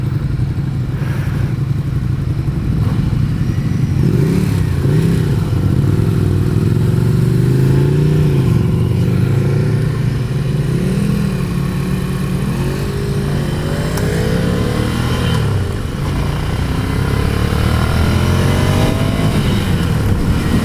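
A 2015 Ducati Scrambler's engine revs up and down repeatedly on the road, a loud, continuous roar with rising and falling pitch sweeps, heard close with no talking.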